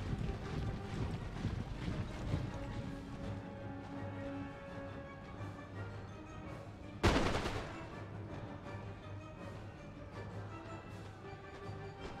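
A musket volley from a line of soldiers in a historical strategy game ripples along the rank, with one sharp loud crack standing out above a steady, wind-like roar of battle ambience.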